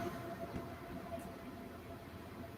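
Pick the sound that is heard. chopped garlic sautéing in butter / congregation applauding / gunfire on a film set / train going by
train going by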